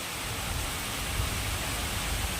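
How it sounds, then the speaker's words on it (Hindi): Heavy rain pours outside a home, a steady dense hiss with low rumbling, constant and fairly loud with no break, and no one speaking over it. "तो आप लोग देखिए कितनी तेज़ बारिश हो रही है"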